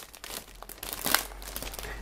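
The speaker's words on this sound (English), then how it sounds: "just give me a second to open this first plastic bag" A plastic bag holding parts of an Eduard 1/48 Fw 190A-6 model kit is opened up close, with crinkling, rustling plastic and a sharper tearing burst midway.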